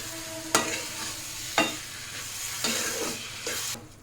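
Milk poured into semolina roasting in ghee for sweet suji halwa, a soft hiss and sizzle broken by four sharp bursts as splashes hit the hot pan, with stirring between them, close and moderately quiet.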